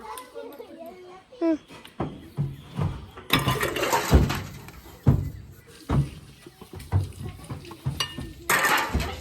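Pots and dishes clink and knock during washing at home, irregular close clatter mixed with children's voices and chatter throughout.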